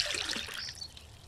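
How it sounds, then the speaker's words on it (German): Clean water poured from a purifier into a bucket in the survival video game MIST Survival, a brief close trickling splash that thins out within about a second, heard alone. "Und das saubere Wasser mal in den hier reintun."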